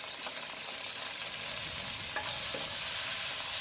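Garlic sizzles as it stir-fries in a hot pan before vegetables go in for a noodle dish, a bright continuous frying hiss with soft stirring scrapes, close up and with no voices.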